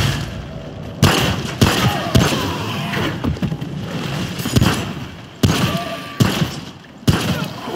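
Gunfire from the game Remnant: From the Ashes, with a series of sharp, loud shots spaced irregularly about a second apart, each followed by a short decaying boom over a murky game backdrop.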